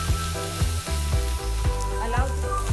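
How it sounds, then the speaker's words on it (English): Two big onions stir-fry with bitter gourd (karela) in oil, a dense steady sizzle under rhythmic scraping spatula strokes about every half second, close and loud with no voices. "I will add these 2 onions and allow it to stir fry together."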